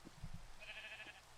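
A Minecraft sheep gives a single short, wavering bleat, clear and alone against quiet game ambience.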